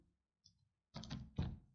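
A few keystrokes on a computer keyboard enter an AutoCAD command: a faint tick, then two sharp, close clacks in quick succession, heard alone in a quiet room.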